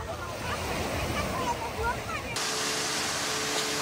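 Steady surf washing at Ky Co beach beside a windy cliffside cove, a continuous broadband roar of breaking waves and wind noise on the microphone, with a voice faintly mixed in.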